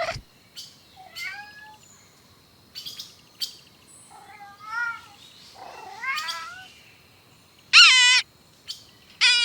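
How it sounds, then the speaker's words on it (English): A kitten on a farm gives a run of short, high mewing cries, some close and clear, others fainter, ending with a few sharp, loud squeaks alone with no talk. "kitten,"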